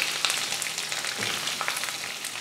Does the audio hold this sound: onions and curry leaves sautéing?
yes